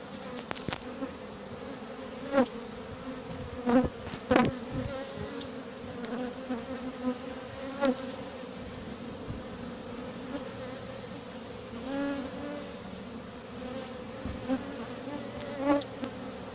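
A honeybee swarm from Samois-sur-Seine being hived into a new hive at Montgeron fills the air with a steady, close insect drone, with sharper flicks of individual bees passing near throughout.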